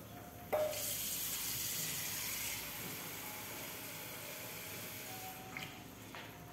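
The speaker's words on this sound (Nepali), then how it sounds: "अब पानी थपिदिन्छु मैले" Water pours in a steady stream into a pot of jaulo for several seconds, a continuous splashing rush that starts abruptly and fades near the end, close, with no talk.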